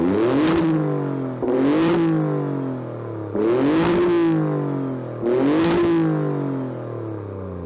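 An Alfa Romeo Stelvio Quadrifoglio engine in race mode revs hard four times, each loud throttle blip climbing and then falling away before the next, with no talking over it.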